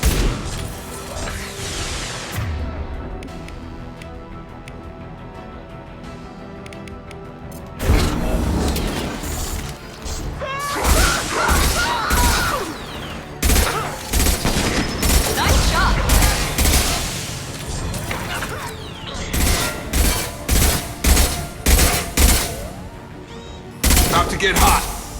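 Rifle gunfire in Mass Effect 2: after a quieter stretch, loud bursts of rapid shots and heavy impacts hammer away in clustered volleys, with game sounds and a voice mixed in.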